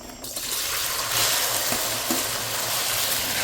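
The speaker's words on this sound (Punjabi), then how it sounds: "ਲਓ ਜੀ ਤੇਲ ਹੋ ਗਿਆ ਗਰਮ ਆਪਣਾ ਸੇਕ ਨਿਕਲਣ ਲੱਗ ਗਿਆ ਠੀਕ ਹੈ ਜੀ ਹੁਣ ਆਪਾਂ ਜਿਹੜੇ ਇਹਨੂੰ ਫਰਾਈ ਕਰਨ ਵਾਸਤੇ ਪਾ ਦਾਂਗੇ" Taro (arbi) pieces go into hot oil and fry with a loud, close, continuous crackling sizzle that swells after an initial quiet moment and stays dense throughout, with no talking.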